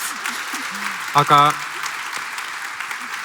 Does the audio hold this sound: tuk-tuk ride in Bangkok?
no